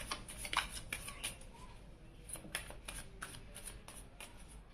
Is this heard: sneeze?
no